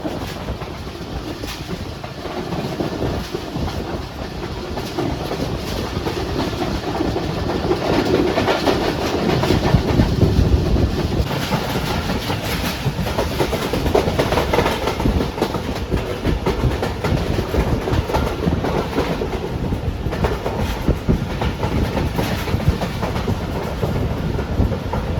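The Pak Business Express passenger train runs on the rails near Mashikot at dawn, with a continuous loud rumble, rhythmic clickety-clack of the wheels and wind buffeting the microphone throughout.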